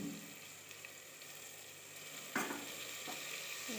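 Tomatoes for ugghani bajji frying in a hot pan, giving a steady close sizzle with faint stirring, one brief louder crackle partway through, no voices.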